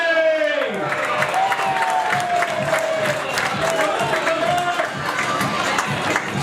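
Football fans at a Stratford Town match roar and cheer after a goal, a loud, sustained crowd swell with shouts and clapping, with an announcer's voice running over it.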